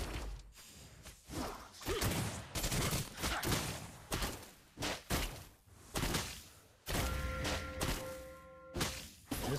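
Video game gunfire, a series of loud bursts and shots in clusters separated by short gaps, mixed with whooshes, thuds and a sustained musical tone near the end.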